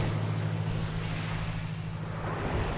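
Surf rolls in at Bohol Beach Club in the Philippines as a steady, broad wash of waves, with wind buffeting the microphone and a low, constant hum underneath. No one speaks.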